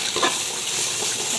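Fish curry bubbling in a wok, a dense continuous hissing sizzle with a faint clink near the start, close and fairly loud throughout the short moment.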